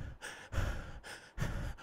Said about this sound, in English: you're going to have to hear me panting